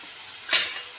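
Garlic spinach sautés in a pan with coriander-cumin powder and asafoetida, a quiet steady sizzle broken by one brief louder stir-and-spatter burst midway, with no talking.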